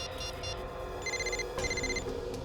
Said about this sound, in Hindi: फोन कहाँ बज रहा है?